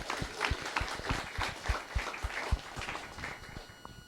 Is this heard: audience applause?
yes